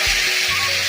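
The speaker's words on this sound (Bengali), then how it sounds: "আমি কড়ার তেল গরম হয়ে গেছে, আমি চিকেনগুলোকে ছাড়ছি।" Chicken pieces dropped into hot oil in a wok give a loud, dense, close sizzle that hisses steadily throughout the brief moment.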